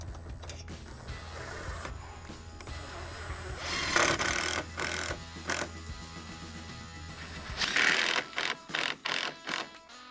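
A power driver fastening screws into a door side jamb, with several whirring drive bursts, then a quick rhythmic series of short bursts near the end, close by.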